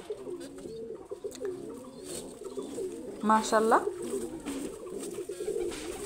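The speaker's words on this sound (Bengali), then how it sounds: "এই যে এক পেয়ার কবুতর, এই কবুতর দুইটাও আমার বেশ ভালো পাল্লা লাইনের কবুতর" A pair of pigeons of the Palla line coo softly amid a backdrop of chirps, with one clear rolling coo standing out near the middle while someone speaks briefly.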